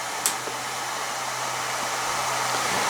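A drill press motor runs at half speed on a variable frequency drive, making a steady whirring hum with an even airy hiss that holds unchanged for several seconds at close range.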